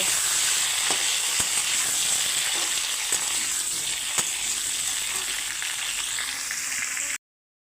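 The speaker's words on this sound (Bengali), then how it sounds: "এখন দিয়ে দিচ্ছি আলু আর পেঁপে এগুলো সামান্য ভেজে নেব" Diced potato and papaya frying in a pan with oil, dry red chilli and bay leaf, giving a steady close sizzle with occasional sharp ticks as pieces are stirred.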